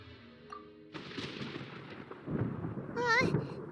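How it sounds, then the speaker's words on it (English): Rumbling thunder in the video game Genshin Impact, a heavy roll that swells over several seconds with crackling bursts, mixed with game effects and music. "There's thunder!"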